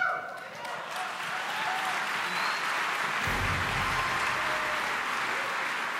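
An audience at an instructor platform pitch event applauds, with steady clapping that swells midway into a fuller, denser round of applause.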